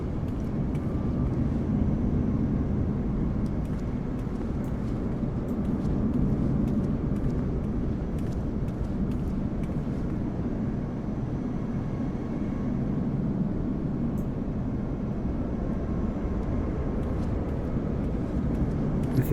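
Steady, loud aircraft engine roar outside an Embraer Phenom 300e jet at an airport, a broad unbroken rumble holding evenly for nearly twenty seconds.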